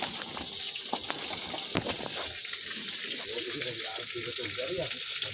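Fish frying in a pan gives a steady crackling sizzle with scattered pops and spits, close and moderately loud throughout.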